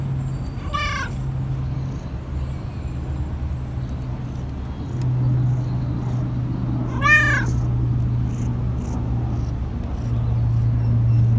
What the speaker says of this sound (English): I'm going to go out and look for the kitty cat stray that I love and wish was mine